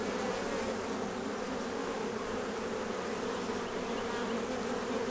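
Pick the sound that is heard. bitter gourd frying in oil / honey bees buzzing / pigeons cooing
honey bees buzzing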